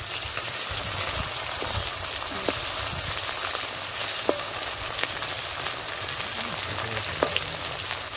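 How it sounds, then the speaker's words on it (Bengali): Onions and green chillies fry in hot oil as the base for a desi chicken curry, giving a steady, close, continuous sizzle with a few faint pops and no talking. "প্রথমে পেঁয়াজ আর কাঁচা লঙ্কাগুলো দিয়ে দিল, দিয়ে ভালো করে ভেজে নিচ্ছে।"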